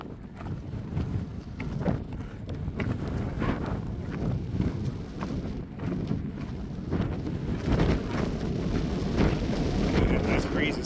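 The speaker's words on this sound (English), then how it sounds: "And this breeze has turned into a steady wind." Steady wind blowing across a mountain trail in Montana, a continuous loud rushing roar buffeting the microphone with slight surges throughout.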